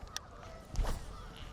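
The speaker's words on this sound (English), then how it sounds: "Man, those geese, what are they doing?" Geese near a bass fishing spot let out a brief honking burst, a single raspy call rising over quiet ambient noise by the water and then fading.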